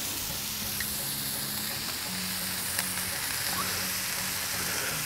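Smash burgers sear on a Halo Elite4B griddle, a constant close hiss and crackle of fat that runs for several seconds with a faint low hum beneath and no talking.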